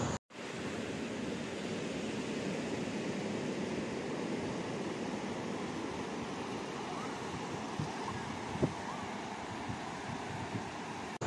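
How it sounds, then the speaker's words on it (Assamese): Arabian Sea surf rolls in steadily where the Kamini river meets the sea at Padubidri beach, a broad continuous wash of waves with some wind noise, with no talking. "আমি সাগৰৰ পাৰলৈকে আহিলে প্ৰায় এটা শব্দ শুনো, বেক ৱাটাৰ"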